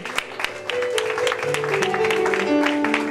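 A church congregation applauds steadily and loudly for a performer, the clapping sustained over a held musical tone beneath it.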